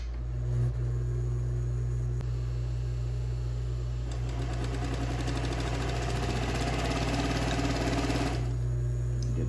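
Sewing machine stitching Model A seat covers, a rapid mechanical chatter of the needle running for several seconds at moderate volume over a constant low motor hum, then stopping.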